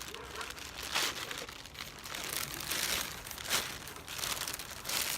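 A plastic bag used as packing material crinkles and rustles continuously as a package is unboxed, close and fairly quiet, with crackly bursts of handling throughout.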